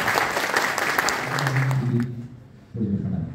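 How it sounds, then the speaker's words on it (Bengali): An audience applauds the instrumentalists at a training course ceremony, a dense burst of clapping that fades out, then a voice speaks briefly. "ওনাদের জন্য একটা করতালি দেব"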